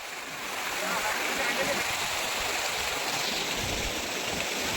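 Steady broadband rush of stream water flowing outdoors in the countryside near Murbad, continuous and fairly loud from start to finish with no clear speech over it.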